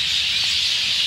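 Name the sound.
birds singing in a tree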